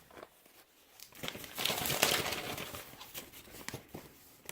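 Sheets of paper rustle and crinkle up close while someone searches through notes, with irregular, moderately quiet handling that swells briefly in the middle.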